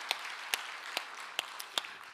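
A Sunday worship congregation gives soft, distant applause, a faint clapping wash with a few sharper nearby claps at a steady, slow pace.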